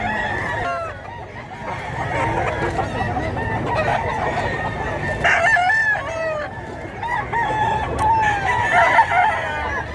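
Many roosters at a gamefarm in Mantalungon, Cebu crow and cluck over one another in a constant, loud, overlapping chorus, some near and some farther off.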